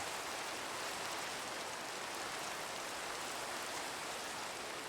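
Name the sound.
rain in the video game Minecraft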